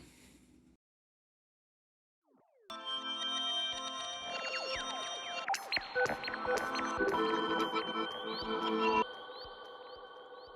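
After a short silence, strange warped metallic tones swell up, shimmering bell-like notes bending and sliding in pitch, dense and layered, ringing on continuously.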